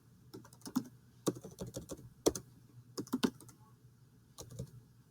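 Soft keystrokes tap on a computer keyboard in short irregular bursts, quiet and close in a still room.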